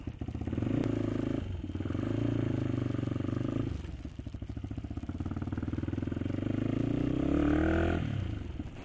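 Motorcycle engine idling and warming up at dawn before a ride on the Abra–Kalinga road, a continuous close chugging rumble with a couple of brief revs rising and falling.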